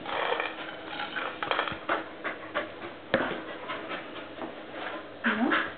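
Dog panting with short whimpers close by, broken by scuffling and clattering, while a person talks over it in bursts.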